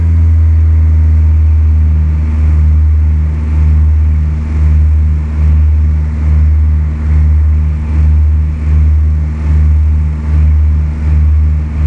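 An aircraft engine in Flight Simulator 2004 drones loudly and steadily, its low hum pulsing in a slow, even rhythm, with no voices.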